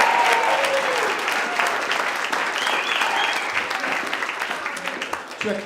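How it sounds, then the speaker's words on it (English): Audience applause at a church gathering, a steady dense clapping that holds loud for several seconds and slowly thins toward the end. "Can we get another little round of applause?"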